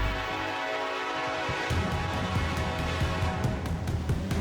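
A train rolls past loudly at close range in the Appalachian countryside, its horn blaring in a sustained chord while wheels clatter and rumble beneath it.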